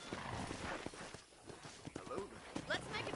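Horse hooves clip-clopping on a ranch in the video game Red Dead Redemption, steady walking footfalls mixed under game music and characters talking throughout.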